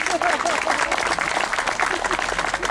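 An outdoor crowd applauds a brass and drum music band, with sustained clapping and scattered voices talking underneath.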